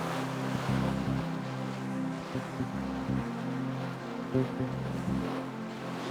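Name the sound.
ocean swell and waves at sea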